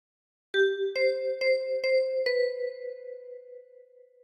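On a 10-key kalimba, a short phrase of We Wish You a Merry Christmas is plucked by thumb: five bright, overlapping tine notes in a steady rhythm, the final one ringing out and fading with no voices.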